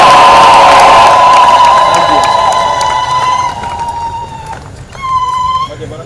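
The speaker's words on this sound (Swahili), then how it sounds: "Makofi mengi sana ya Mungu." A church congregation breaks into loud applause and cheering at a blessing. The dense clapping starts strong, fades across a few seconds, then swells briefly again, and a prolonged voice rides over the crowd noise.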